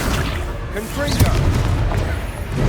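The Confringo explosive spell goes off in the Hogwarts Legacy video game as a booming blast over busy combat noise, with a rumbling low impact and crackling debris.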